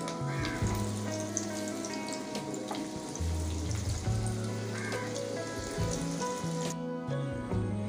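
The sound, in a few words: stuffed potatoes deep-frying on full flame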